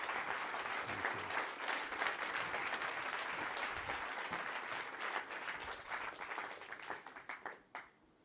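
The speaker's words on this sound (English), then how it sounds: "I can see that the applause that you got" An audience at a film screening in Davos applauds in sustained, dense clapping that holds steady for several seconds, then thins out and fades at the end.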